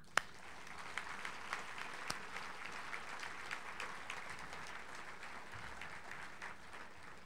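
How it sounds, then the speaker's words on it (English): Sustained applause fills a dinner hall at an awards banquet honoring Edith O'Donnell, steady clapping from a large audience with a few sharper claps standing out, no talking. "Please let us have a round of applause for Edith."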